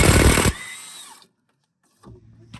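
A cordless impact wrench loosens a tight bolt on a 2009 Nissan Sentra during front wheel bearing work, giving a loud, harsh half-second burst that trails off into quiet, followed by a brief softer mechanical noise.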